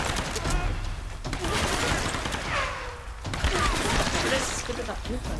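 Game gunfire from Tomb Raider Remastered crackles in quick bursts against music and effects, with a player talking over the shots.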